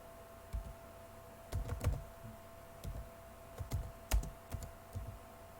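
Fingers tap on a computer keyboard in short, irregular bursts of soft keystrokes, heard close and fairly quiet against a faint background hum.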